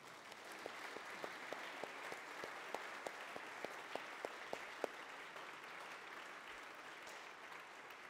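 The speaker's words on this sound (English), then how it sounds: "Will you give them applause of encouragement?" A congregation at a church service claps in encouragement for students, a soft, distant wash of applause with a few sharper individual claps standing out in the first half.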